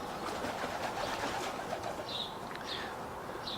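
A very young seagull, hatched this year, gives several short high calls from close by over a steady outdoor background noise, the cries coming in brief bursts near the end.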